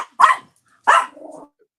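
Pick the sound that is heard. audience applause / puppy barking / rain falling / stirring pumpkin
puppy barking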